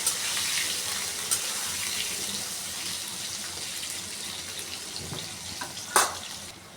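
Potato pieces frying in hot oil in a pan, a steady loud hiss and crackle that continues throughout with a couple of brief louder spits near the end.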